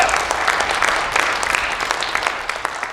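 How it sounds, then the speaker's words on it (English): A rally crowd in a theater applauds steadily, a dense, continuous wash of many hands clapping with occasional cheers mixed in, filling the whole stretch without talk. "big round of applause to all of us for that"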